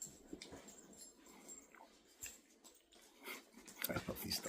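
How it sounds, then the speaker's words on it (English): Dogs whimper and whine softly close by, with intermittent chewing or mouthing sounds and brief snuffles, fairly quiet and uneven. "I love these dogs."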